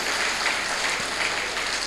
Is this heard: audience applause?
yes